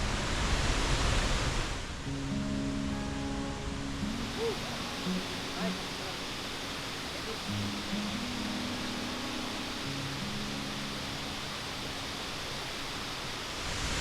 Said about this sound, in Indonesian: Ini udah sampai di air terjun di sebelah kanan kita.